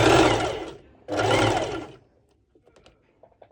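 A sewing machine stitches a ruched underwire top in two loud, steady runs of about a second each, separated by a short pause, followed by faint scattered clicks and handling noises.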